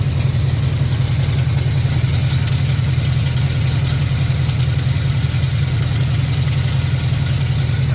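A Plymouth Cuda's engine idles with a suspected transmission bearing noise, producing a constant low, heavy rumble close by with no change in pace and no voices.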